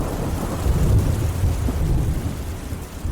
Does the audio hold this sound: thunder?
yes